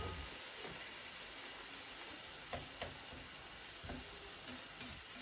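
Pastelon filling fries in a pan with butter and a splash of water, a steady soft sizzle and bubbling hiss with a few light stirring clinks, close and low in level.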